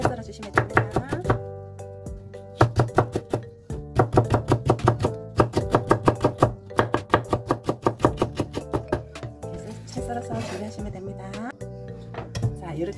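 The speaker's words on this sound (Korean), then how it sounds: "이렇게 얇게 썰어주세요" A kitchen knife thinly slices carrot on a cutting board for cucumber kimchi, rapid rhythmic chopping taps in bursts with brief pauses, close and crisp, some scraping of the blade toward the end.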